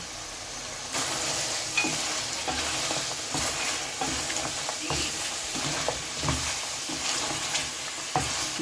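A tarka of spices fries in hot oil for Dhaka-style shahi haleem. A continuous close sizzle carries a scattering of scraping stirs, with no talk over it.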